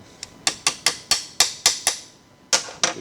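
A small hammer taps a bearing race into the rear transmission case of a 1986 Porsche 944 Turbo, about ten sharp metallic strikes in an uneven rhythm, close and ringing briefly, with a pause before the final blows.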